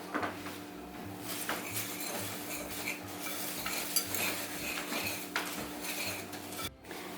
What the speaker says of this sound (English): And then whisk it together